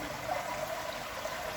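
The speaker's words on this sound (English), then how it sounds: "terrace and I got the waterfall infinity pool." Water pours steadily from a waterfall infinity pool at a new house terrace, a constant loud rushing wash without pauses or voices.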